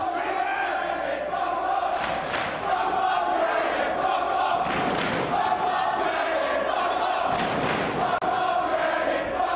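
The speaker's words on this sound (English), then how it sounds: "You hear the crowd firmly behind Bryan Danielson in this one." A wrestling crowd in an arena cheers and chants for Bryan Danielson in a match against CM Punk, a loud continuous roar with swelling surges of shouting and occasional thuds.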